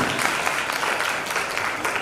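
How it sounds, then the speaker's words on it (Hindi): Audience at a Jain monk's sermon applauding, a broad continuous wash of many hands clapping held at a steady moderate level throughout, with no speech over it. "आप लोग तालियां बजाने से कोई सार नहीं है"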